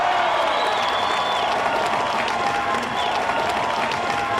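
Crowd at an American Ninja Warrior qualifying course cheers and applauds a female competitor, a loud, continuous wash of clapping and cheering with a few whistles.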